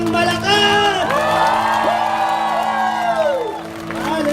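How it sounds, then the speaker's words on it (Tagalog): A large church congregation at an anniversary worship gathering shouts, whoops and claps loudly and continuously, with a voice calling out over the noisy cheering. "pumalakpak ng malakas!"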